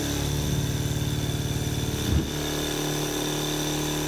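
A 7KQ diaphragm pump runs with its footing brackets not yet mounted and no tubing connected, producing a steady mechanical hum and buzz at moderate level with a brief bump partway, heard alone.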